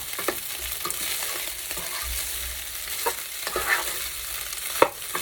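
A rice paddle stirs fried rice with bacon in a hot pan, giving soft scraping strokes and light taps over a quiet, faint sizzle with no talking.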